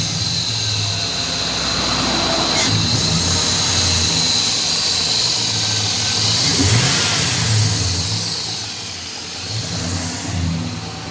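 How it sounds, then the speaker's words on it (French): A Chevrolet SSR's 300-horsepower 5.3-litre V8 runs with a steady, loud engine note, then revs up in a strong swell around the middle and in smaller surges near the end. No one speaks. "C'est un 5 litres 3, 300 chevaux. Donc c'est entre guillemets le petit moteur. Le petit V8."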